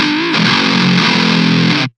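Heavily distorted electric guitar in a standard metal tone plays a short, dense riff, opening on a bent note, then chugging on sustained chords before cutting off abruptly into silence.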